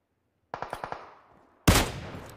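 Gunshots in PUBG Mobile: a quick string of six evenly spaced shots rings out, followed after a short pause by a single much louder, close blast with a lingering tail.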